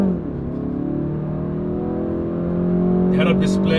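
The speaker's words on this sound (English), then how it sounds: "So let's see the car, how it sounds now." Inside a 2020 BMW 330i G20 M Sport, the engine holds a steady, fairly loud drone with layered harmonics, rising slightly near the end as another sound enters briefly.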